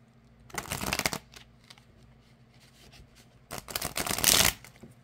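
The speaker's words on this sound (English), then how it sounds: "I am able to shuffle, so they're not real stiff." A new deck of standard-size playing cards is riffle-shuffled twice, each shuffle a crisp, close burst of rapid flapping riffles lasting about a second, with quiet handling between them.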